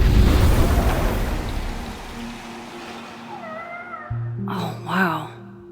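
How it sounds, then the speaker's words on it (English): A cat meows at a door in the video game Life is Strange: Double Exposure. A wash of broad noise fades away first, then two or three drawn-out, wavering meows come close together near the end over a low steady hum. "There's a cat at my door."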